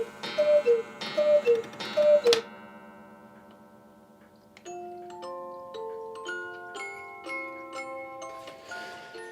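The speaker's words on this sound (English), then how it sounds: "2 gigantic hand-carved Bavarian cuckoo clocks, hang in his bedroom" Ticking and chiming music from a large hand-carved Bavarian cuckoo clock hanging in a bedroom, with a short run of bright clock tones at first, then a steady melodic music-box tune playing alone.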